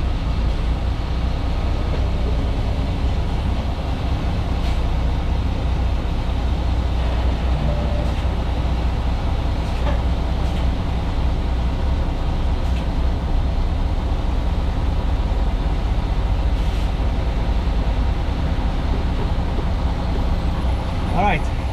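A heavy goods vehicle's diesel engine idles in a trailer yard with a steady low, rumbling drone that holds evenly throughout the clip.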